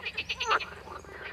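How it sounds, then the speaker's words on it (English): Male green frogs and tree frogs croak forcefully with swollen vocal sacs, a series of about five rapid, loud pulsing calls in quick rhythm, then fading to a softer, continuing chorus. "the males croak with all their force to attract females by swelling their vocal sacs"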